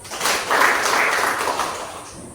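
A classroom of students claps together after a prayer, a steady, fairly loud burst of applause lasting a couple of seconds and fading slightly at the end, with no talking.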